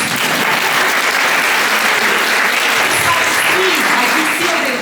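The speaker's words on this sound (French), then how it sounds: "Allez-y, applaudissez." A dense, steady wave of audience applause fills the whole stretch, loud and continuous without pause, a broad wash of many hands clapping at once.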